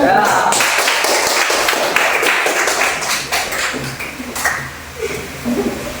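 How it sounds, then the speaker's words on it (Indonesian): A classroom audience gives lively applause to student group 4 after their presentation, a burst of scattered claps that is loud at first and then thins out, with voices mixed in. "berikan aplaus yang meriah"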